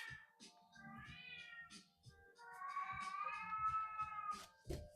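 A deaf cat meows at length, with a short call, then a long rising and sustained wail indoors, close and fairly loud, ending in a brief sharp sound.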